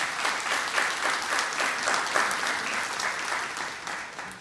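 Sustained round of applause from an audience at a government awards ceremony in Trinidad and Tobago, a steady dense clatter of many hands holding at an even level throughout.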